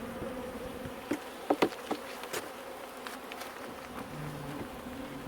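Honey bees buzz faintly around a hive frame wrecked by wasps and wax moth, a soft steady drone broken by a few sharp clicks and handling knocks close by.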